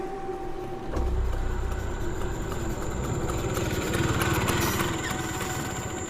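A scooter engine putters at a steady, close idle-like drone with a slightly louder rough stretch partway through, with no voices.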